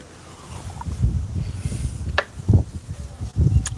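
Outdoor wind buffets the microphone in uneven low gusts, building and dropping over a few seconds with brief louder surges and no voices.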